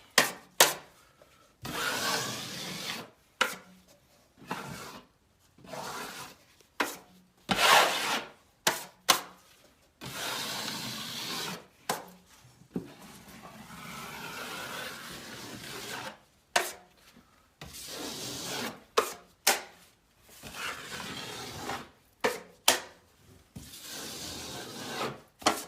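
A drywall knife scrapes and rasps over joint compound and paper tape in an inside sheetrock corner, in repeated smoothing strokes with short pauses between passes, close and moderately loud with no talk.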